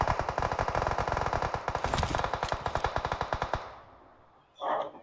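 Rapid machine gun fire in a multiplayer shooter video game, with an urban fight near a taxi, loud sustained bursts of evenly spaced shots for over three seconds, then fading, followed by a brief whoosh or effect sound.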